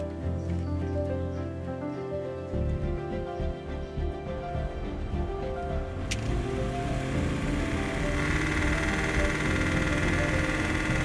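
A Land Rover Discovery engine, freshly fitted with new ignition and fuel injection parts, runs steadily and fairly loud throughout, with a continuous rumbling idle and a slight change in tone partway through, no voices over it.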